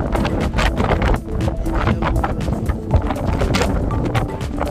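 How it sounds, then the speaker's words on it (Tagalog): Strong wind gusting at Sulby Lake on the Isle of Man, buffeting the microphone in loud rough bursts that rise and fall continuously, with no clear talk over it. "Lakas ng hangin."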